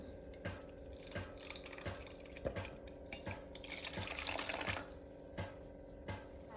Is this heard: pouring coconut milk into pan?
yes